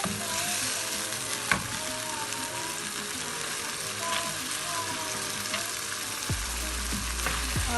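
Chana dal sizzles and crackles in a pan with masala, a continuous close frying hiss with occasional scraping stir sounds and a few clinks.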